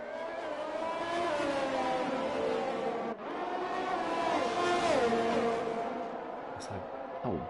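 Formula 1 race cars in the video game F1 2021 scream down the start-finish straight at the Hungary circuit, engines whining and shifting pitch as they pass, with a commentator talking over them.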